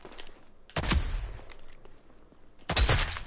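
Shotgun fire in the Rogue Company video game at a shooting range, two loud, sharp blasts about two seconds apart, each followed by a brief decaying rumble over quiet background.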